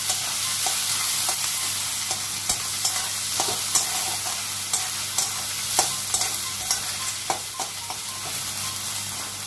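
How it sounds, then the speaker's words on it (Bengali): Onions fry and brown in a pan with a steady close sizzle, broken by occasional clicks and scrapes of stirring, with no voices. "পেঁয়াজটা একটু ব্রাউন ব্রাউন করে একটু ভেজে নেব।"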